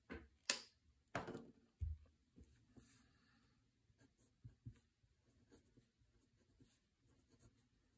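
A pen with Diamine ink scratches quietly across a card in short strokes and taps. A few louder knocks and handling noises break up the faint, close writing sounds.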